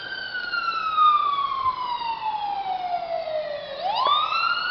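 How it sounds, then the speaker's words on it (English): A police siren wails from a distance, its tone sliding slowly downward before sweeping back up, with road traffic murmuring underneath. "Police car."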